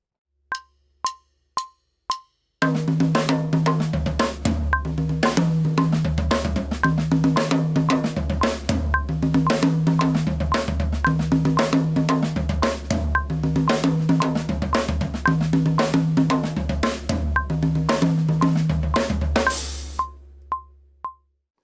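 Drum kit groove using a second snare drum tuned high with snare wires off in place of a high tom: a few sharp count-in clicks, then a steady looping pattern of ringing high drum hits over kick and cymbal, ending with a crash.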